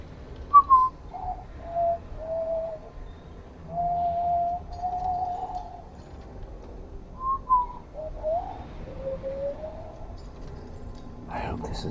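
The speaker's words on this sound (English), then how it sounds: "like that when I whistle" A person whistles soft, sliding tones in short phrases with pauses between, fairly close and gentle.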